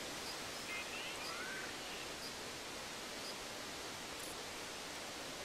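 Waterfall in the video game Grow Home, a constant broadband rushing hiss of falling water, steady and enveloping with no voices.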